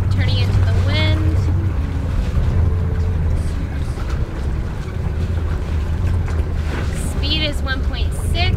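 A sailboat's engine idles in neutral as the boat turns into the wind, a steady low rumble running throughout with wind noise and water around it, and a brief chirping sound over the top.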